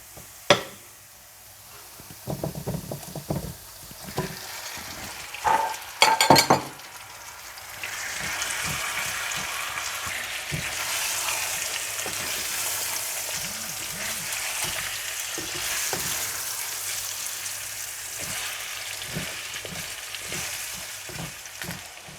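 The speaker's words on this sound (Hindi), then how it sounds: "और जब प्याज ब्राउन होने लगे तो आप इसमें चिकन डालकर भून लें।" Chicken frying with browned onions for a Moroccan chicken tagine: a few clattering knocks and stirring at first, then a continuous loud sizzle with crackles that holds steady to the end.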